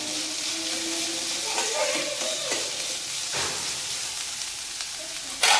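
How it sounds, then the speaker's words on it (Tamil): Onions sautéing in a pan for a paneer roll: a steady, close frying sizzle with occasional soft stirring scrapes, and a brief louder clatter right at the end. "நல்லா வதங்கட்டும். வெங்காயம் நல்லா வதங்கிருச்சு."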